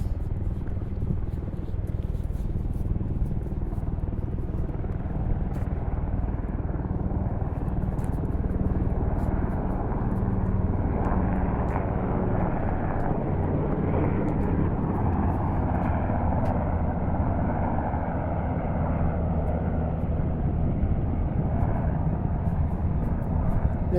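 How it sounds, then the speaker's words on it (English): Low-flying military helicopters from a nearby base pass overhead near a harbor, a loud, continuous low rumble of rotors and engines that swells and lingers throughout. "They're military helicopters from the base down there."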